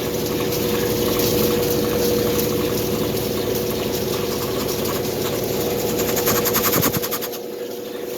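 An overloaded GE belt-drive washing machine spins with a loud, steady mechanical drone and rapid rhythmic thumping, the whir winding down near the end.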